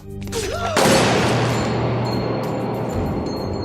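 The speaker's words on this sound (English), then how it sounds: "causes the gun-wielding manipulative cop, Dawn, to promptly shoot Beth in the head." A gunshot from a tense scene in The Walking Dead, where a police officer shoots at close range: one sharp, loud blast followed by a lingering reverberant rumble that slowly decays.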